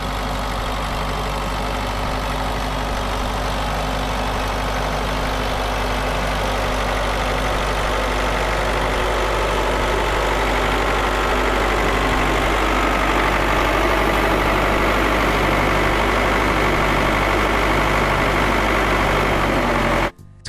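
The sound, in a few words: tractors pulling a sunken sweet corn trailer out of mud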